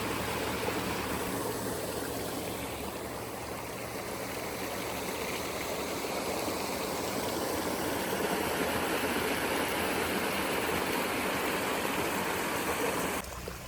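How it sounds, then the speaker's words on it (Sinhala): Water running steadily along an irrigation canal that flows year-round toward farmland, a continuous broadband rush close by with no talking over it. "මේ මෙතන තියෙන වතුර පාර නම් මුළු අවුරුද්ද පුරාම තියෙනවා."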